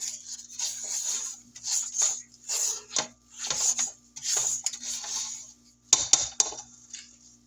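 Spatula scraping down butterscotch pound cake batter in a mixing bowl, a series of rhythmic scrapes and light clinks against the bowl, close and fairly clear, with no talking.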